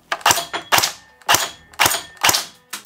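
Sharp airsoft gun shots fire one at a time in quick succession on semi-auto, each a crisp snapping pop with a brief mechanical clack.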